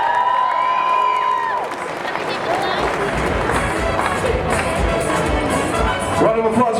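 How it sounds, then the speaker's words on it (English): An outdoor crowd at a Caribana kick-off in downtown Toronto applauds and cheers for speaker Chris, with clapping, shouts and whoops mixed with steady crowd noise throughout. "Round of applause one more time for Chris."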